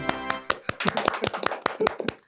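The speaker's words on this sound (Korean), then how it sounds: "일동 박수!" A short burst of clapping from a small studio group on a Korean investment talk show, sharp close claps in an irregular run lasting about two seconds, alone without speech.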